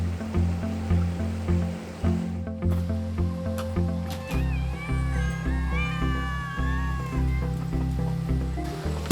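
Kittens meow repeatedly at feeding time on a rainforest property, several high, wavering cries rising over a steady rhythmic background hum and pulsing noise, fairly close and moderately loud.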